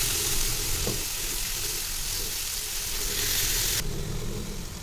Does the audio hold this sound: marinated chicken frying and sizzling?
yes